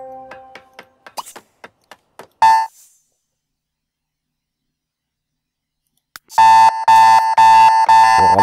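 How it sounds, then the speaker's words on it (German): An alarm clock rings inside The Sims 3, loud repeated electronic beeping bursts that start abruptly after a silent stretch, preceded by a series of sharp game interface clicks. "welcher Wecker ist denn das?"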